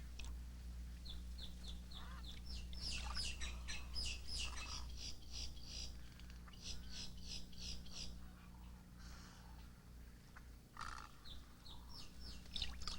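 Flocks of wading birds feeding at Mrazek Pond in the Everglades, white ibis among them, calling in many short bursts of chirps and squawks, moderately near, over a steady low rumble.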